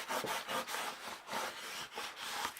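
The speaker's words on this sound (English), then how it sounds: "so when you have finished adding all your tape, give it a good burnish" A burnishing tool is rubbed firmly back and forth over tape on a mini album page, producing close, steady scratchy rubbing strokes in a quick repeating rhythm with no talk.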